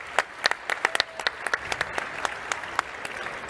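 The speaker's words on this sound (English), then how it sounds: "let's give these guys a round of applause" A small group claps for a few seconds, quick scattered claps fading near the end.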